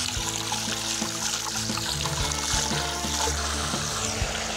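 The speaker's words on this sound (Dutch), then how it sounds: "En dan laten we de koude waterkraan erop los." Cold water running steadily from a tap and splashing in a sink, a constant close rush with a few knocks underneath.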